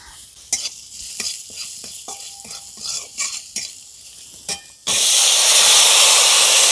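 Oil with turmeric, chilli powder, chopped garlic and ginger in a pan for tadka, first tapped and stirred with a utensil in short clinks, then a sudden loud, steady sizzling hiss as it fries.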